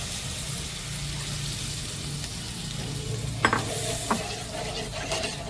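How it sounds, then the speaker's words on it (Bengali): Coconut milk poured into frying ground spices and stirred for a Bengali egg malai curry: a steady close sizzle and bubble, with a few sharp spoon scrapes and clinks against the pan near the end. "নারকেলের দুধটা বের করে রেখেছি, এটা দিয়ে দিচ্ছি মশলার মধ্যে"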